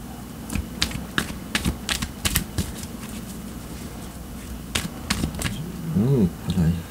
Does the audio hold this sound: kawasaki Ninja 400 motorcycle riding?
no